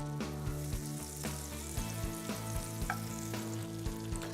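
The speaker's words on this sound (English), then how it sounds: "We're going to melt our butter." Butter melts and sizzles in a sauté pan on medium heat, a steady soft frying hiss broken by faint rhythmic stirring clicks with no voices.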